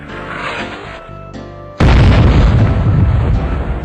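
Cartoon firework explosion, a sudden loud booming blast that cuts in after a tonal musical passage and rumbles on with crackling decay.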